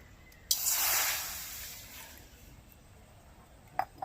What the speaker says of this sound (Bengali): প্রথমে একটু জল দিয়ে দেবো